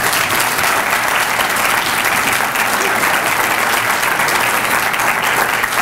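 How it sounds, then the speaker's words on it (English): A morning audience at a closing ceremony gives a dense, sustained round of clapping, loud and even from start to finish with no pause. "Let's give them again a round of applause."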